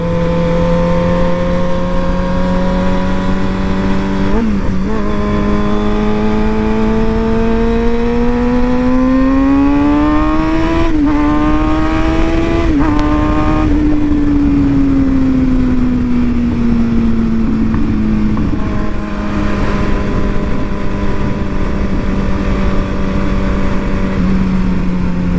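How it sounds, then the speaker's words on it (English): Stunt motorcycle with cheap tires ridden on wet roads, its engine droning loud and steady throughout, pitch climbing and falling gently with throttle changes and a couple of brief shifts. "riding on wet roads, especially on a stunt bike with pretty cheap tires on it"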